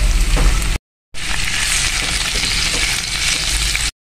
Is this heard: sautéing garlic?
yes